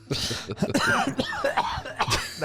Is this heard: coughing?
yes